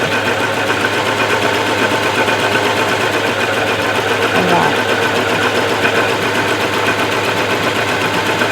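A sewing machine runs continuously with a steady mechanical hum and fast rhythmic clatter, close and fairly loud, holding an even drone throughout.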